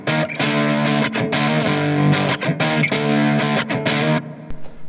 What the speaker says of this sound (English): I have the amp now where it's a good rhythm crunch tone